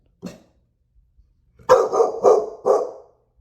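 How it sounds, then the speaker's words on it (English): A dog barks loudly and aggressively indoors, with one short yelp followed after a pause by three sharp, close barks in quick succession. "His dog suddenly starts barking, loud, aggressive, and completely fixated on something inside the house."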